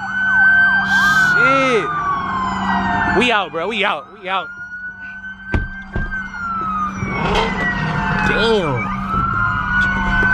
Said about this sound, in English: They all turn their sirens on